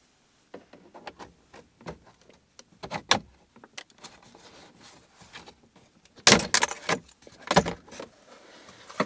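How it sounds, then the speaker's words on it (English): Plastic dash trim on a Ford F150 being pried loose from its clips, giving scattered knocks and sharp snapping pops up close, with two loud cracks as the panel releases near the end. "we're going to pop this trim piece loose right up here"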